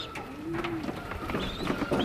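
A soft, low racing pigeon coo drifts through the background, with faint chirps and light ambient noise around it.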